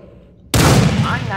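Gunfire from an overpowered gun in Garry's Mod bursts in suddenly after a quiet lead-in, a loud, dense blast of shots that continues without a break to the end.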